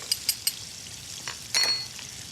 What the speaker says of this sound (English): our oil's starting to fry these onions